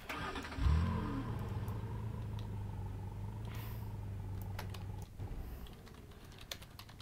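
A video game car engine starts with a sharp crank, then settles into a steady, droning hum as the car drives along, with faint keyboard clicks scattered throughout.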